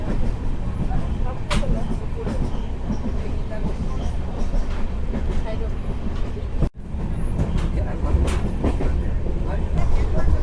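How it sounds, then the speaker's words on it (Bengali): An express train from Agartala stands at Badarpur Junction, giving a continuous loud rumble with clanks and rattles of the railway cars and a brief dropout midway, while platform noise goes on around it. "এক্সপ্রেস আগরতলা থেকে বদরপুর জংশনে এসে পৌঁছেছে"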